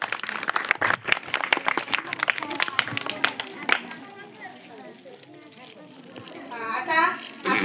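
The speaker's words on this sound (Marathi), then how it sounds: "आता सगळ्यांसाठी जोरात टाळ्या वाजवायच्या आहेत." Children clapping loudly at a village school's January 26 Republic Day celebration: a burst of sharp, scattered claps for several seconds that fades into children's voices and chatter.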